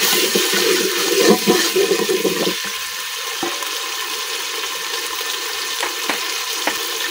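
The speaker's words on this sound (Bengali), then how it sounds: "এখন দিয়ে দিতে একটু পানি।" Water poured into a cooking pot of frying onions and spices on a village fire, a loud rushing splash and hiss at first that fades into a quieter steady sizzle with occasional stirring taps.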